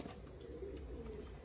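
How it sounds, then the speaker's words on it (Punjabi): Teddy pigeons cooing, a low steady murmur of coos running throughout, moderately faint with no other sounds. "ਦੋਵੇਂ ਟੈਡੀ ਕਬੂਤਰ ਬੈਠੇ ਜੇ"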